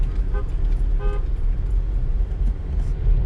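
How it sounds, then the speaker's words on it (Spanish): A car is being parked, its low engine rumble steady and loud, with two short horn toots sounding nearby early on. "vamos a aparcar el carro"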